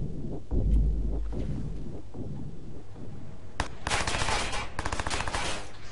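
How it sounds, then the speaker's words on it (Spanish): Enemy gunfire in the video game Watch Dogs: muffled thuds and rumble early on, then sharp, loud bursts of rapid shots crackling through the last two seconds. "Te sigue disparando ahí."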